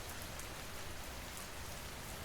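Steady rain pours continuously as a soft, even hiss of drops on a surface, a constant broadband wash with no breaks, thunder or voices.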